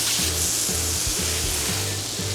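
Garden vegetables sauté on an induction burner, giving a steady, close, even sizzle with soft repeated low thumps underneath.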